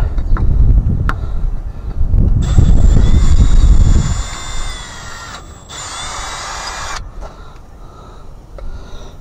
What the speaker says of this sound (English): We're going to go with the drill.